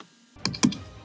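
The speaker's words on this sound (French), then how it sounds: "Je clique." Computer mouse clicked while building an Arduino project in Proteus 8, two sharp, close clicks in quick succession after a quiet moment.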